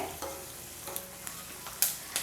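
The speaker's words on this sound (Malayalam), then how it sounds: "കറിവേപ്പിലയും ചേർത്ത് കൊടുത്ത ശേഷം നല്ല രീതിയിൽ തന്നെ എല്ലാം കൂടി ഒന്ന് വറുത്ത് കൊടുക്കുകയാണ്" Dried chilies and curry leaves crackle and sizzle in hot oil, broken by several quick scraping stirs close by.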